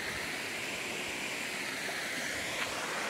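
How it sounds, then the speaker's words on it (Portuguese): Steady broadband rush of a natural waterfall at Serra da Prata in Brazil, a constant wash of falling water close by with no talk over it. "Aqui, que linda cachoeira,"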